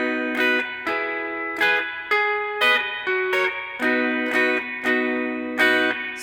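Clean guitar strumming a short chord progression from a song lesson, with a final chord fretted high on the first three strings; bright, evenly spaced strums ring out alone with no talking.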